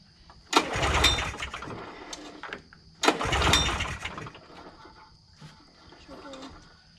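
A vintage Polaris snowmobile engine left sitting for 20 years cranks and catches in two loud bursts, sputtering and running roughly before dropping to a weaker, uneven idle.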